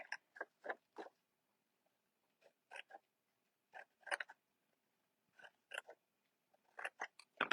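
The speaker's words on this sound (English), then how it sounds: "We're going to snip up in these little 1-inch areas that we made." Scissors snip up into small 1-inch sections of craft material for a Christmas craft, making crisp, close cuts in short clusters with brief pauses between them, with no talking.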